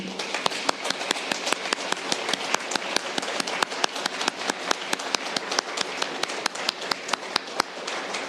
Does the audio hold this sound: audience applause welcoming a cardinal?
yes